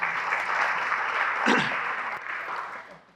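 A room full of people at a leadership talk applauds in a steady wash of clapping that swells around the middle and then fades out toward the end.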